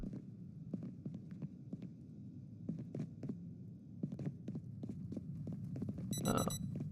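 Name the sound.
alarm clock ringing in video game Project Zomboid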